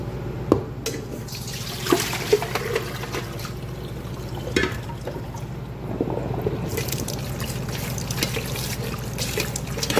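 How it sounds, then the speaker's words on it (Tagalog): Raw chicken soaked in salt water is washed and rinsed under a running tap, with trickling, splashing water and occasional knocks and clatters close by. "And I wash now. And rinse it."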